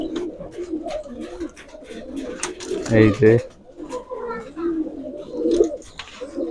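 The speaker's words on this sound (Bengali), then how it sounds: "এটা আপনার গলালাল বলে এই কবুতর" Golalal pigeons at a pigeon farm cooing in low repeated throaty bursts, strongest midway, mixed with nearby talking and background chatter.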